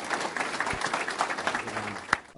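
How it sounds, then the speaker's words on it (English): Audience applause at a school hall of fame induction ceremony, a soft, somewhat distant patter of clapping from a crowd, with a few sharper claps near the end. "Applause for that."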